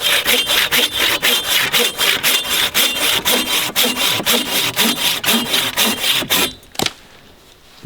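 A saw rips through dry timber in quick, even back-and-forth strokes, close and loud, for about six seconds before the cutting stops and a short knock follows in near quiet.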